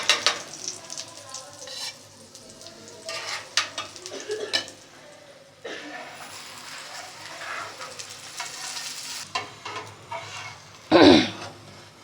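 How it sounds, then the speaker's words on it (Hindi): Aloo paratha frying in ghee on a pan, with a steady sizzle, scattered utensil clatter and scraping, and a loud burst of sizzle near the end as more ghee hits the hot pan. "अब इस पे हम घी डालेंगे ताकि ये सिक जाए घी से"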